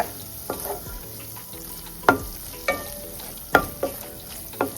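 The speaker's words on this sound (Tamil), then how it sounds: "சேர்த்துட்டு இதை நல்லா கலரி விடுங்க" A utensil scrapes and knocks against a frying pan in irregular strokes, stirring spices with turmeric powder, close up, over a soft continuous sizzle of frying; no voices.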